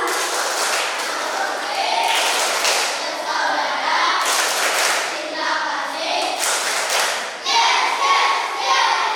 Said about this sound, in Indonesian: Tepuk tunggal, tunggal, tepuk maritas.